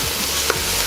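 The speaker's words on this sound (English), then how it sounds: "Break down the beef and mix well and stir fry all together with garlic and ginger" Ground beef stir-fried with garlic and ginger in a hot pan, a loud continuous sizzle close by with a single short scrape of the utensil partway through.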